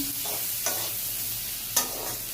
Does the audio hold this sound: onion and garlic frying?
yes